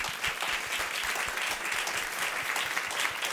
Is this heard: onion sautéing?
no